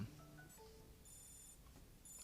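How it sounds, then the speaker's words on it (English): A phone alarm rings: a quiet, faint electronic ringtone melody plays alone, a few soft tonal notes followed by brighter chime-like tones. "sorry, that's my alarm."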